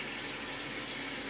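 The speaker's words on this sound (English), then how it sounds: "I'm just gonna take a little piece of paper towel, wet it, preferably for me, with some warm water" Warm water runs steadily from a tap to wet a piece of paper towel, a continuous close, even gush and hiss with no other sounds.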